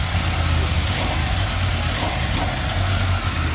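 A CFMOTO 800cc adventure motorcycle engine runs loud and close, holding a steady low rumble with slight swells in pitch as it is revved, heard alone without talk.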